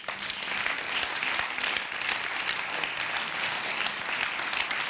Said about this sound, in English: Please, a big warm applause for Walter Hoogland.